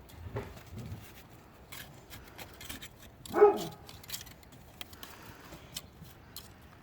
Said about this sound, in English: That's our dog Bear.